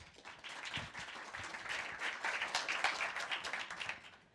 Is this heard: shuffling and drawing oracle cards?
no